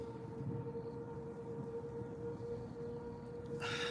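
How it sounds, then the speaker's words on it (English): Tornado warning sirens wail steadily at a distance in southwest Missouri, a continuous droning tone under faint outdoor noise, with a brief louder noise at the end. "You can hear the sirens going."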